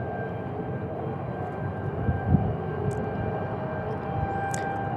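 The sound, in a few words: Air National Guard F-16 jets rolling at Tucson airport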